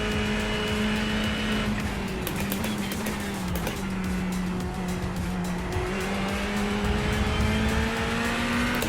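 A race car engine in a sim racing game drones steadily for several seconds, with a constant high pitch and occasional tire squeal, loud and up close with no voices.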